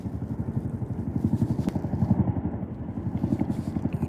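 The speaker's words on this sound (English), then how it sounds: "Can you guys see and hear that military helicopter?" A military helicopter's rotor thumps in a fast, steady rhythm, fairly close and continuous for the whole stretch, with no one speaking.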